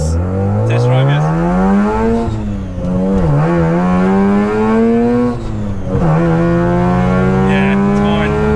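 Mazda RX3 with a 13B rotary engine pulling hard on a test drive after a gearbox swap, loud and close, the revs climbing through the gears with brief dips at each shift, people talking over it.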